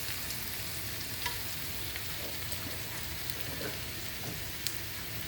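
Onions fry in ghee for Kerala-style ghee rice, a faint, even crackling sizzle that runs throughout with a few light pops and no voices.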